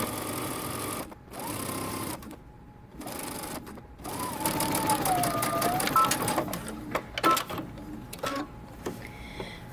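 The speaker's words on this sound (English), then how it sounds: "we're going to sew across the bottom using 5/8 of an inch seam allowance" A sewing machine stitches across the bottom seam of a dress lining, running in short bursts with pauses and a back stitch, its motor whirring at close range over a faint room hum.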